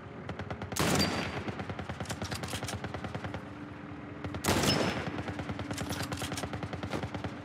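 Rapid, sustained automatic gunfire from an intense firefight in the video game The Last of Us Part 1, with two loud bursts standing out over a continuous crackle of shots and no talking.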